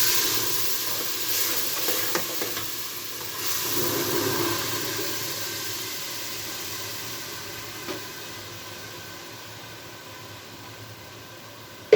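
Tomato sauce hits a hot pan of browned garlic and sizzles steadily in a broad, hissing wash that slowly fades, with a few faint clicks along the way.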